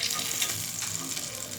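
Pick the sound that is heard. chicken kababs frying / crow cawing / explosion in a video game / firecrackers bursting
chicken kababs frying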